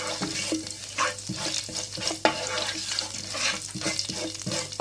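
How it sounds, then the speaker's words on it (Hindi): Cumin seeds sizzling and frying in hot oil in a pot or kadhai, a steady crackling hiss with occasional stirring clatter, close and fairly loud with no talk over it. "उसके अंदर अब हम ज़ीरा ऐड कर रहे हैं"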